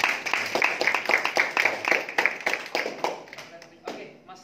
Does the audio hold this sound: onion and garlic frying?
no